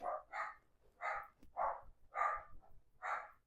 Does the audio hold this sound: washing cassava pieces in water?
no